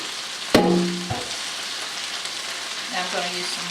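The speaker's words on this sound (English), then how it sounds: "And now we're going to add the cut okra." Cut okra dropped all at once into hot oil in a skillet gives a sudden loud sizzle that settles into a steady, softer frying hiss, with brief clatters as it lands.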